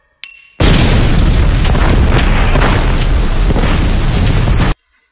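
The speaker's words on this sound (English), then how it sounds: "Well, shit's exploding." A loud explosion from the animated film Finding Nemo: a brief pop, then a sustained roaring blast that holds steady for about four seconds before cutting off abruptly.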